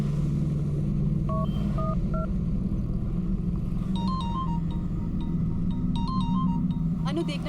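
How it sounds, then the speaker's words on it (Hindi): A phone rings indoors with electronic tonal chirps in short repeated bursts, heard over a continuous low rumbling hum, with speech around it. "देखना किसका फोन है।"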